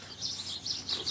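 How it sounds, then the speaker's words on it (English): Birds chirping steadily in quick repeated bursts, high and fairly close, with no talking. "Sorry for the birds."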